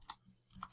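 Typing on a computer keyboard: a few light, quick key clicks in a short, quiet burst with a small pause between the first tap and the last ones.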